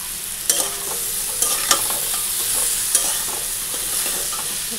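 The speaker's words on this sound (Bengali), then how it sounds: "মশলার সঙ্গে ভাজাও হয়ে যাবে" Squash and potato curry frying with spices in a pan, a continuous hiss of sizzling oil with a spoon stirring and occasional scraping clicks, close and alone without speech.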